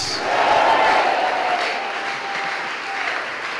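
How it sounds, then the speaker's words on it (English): A church congregation claps and cheers loudly all at once, a dense roar of many hands with voices shouting over it, rising quickly and holding steady before easing a little. "clap your hands and shout"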